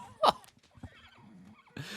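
In Age of Empires 4, a horse gives one sharp, loud whinny near the start, then fainter game sounds and soft hoof clatter follow, with no voice over them.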